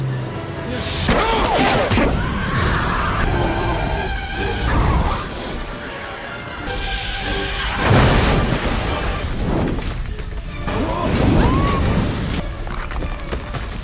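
Booming cinematic explosions from the film Anaconda 2 as a flare gun fired into an anaconda's mouth ignites it, with rumbling blasts and crackling debris, mixed with dramatic movie sound effects and bursts of noise rising and falling.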